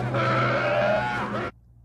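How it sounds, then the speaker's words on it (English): A donkey braying sound effect from Return of the Jedi, voicing a Nikto pilot: one loud, harsh, close bray lasting about a second and a half before cutting off abruptly. "It's the same donkey braying sound that was used for this particular Tusken Raider from A New Hope."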